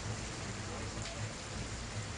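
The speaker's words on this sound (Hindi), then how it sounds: "गटर में जा रहे पानी के शोर को सुनकर आप अंदाजा लगा सकते हैं कि किस रफ्तार से यहाँ बारिश हुई होगी।" Rainwater rushes into a street gutter after heavy rain, with a steady, even hiss of running and splashing water and no break throughout.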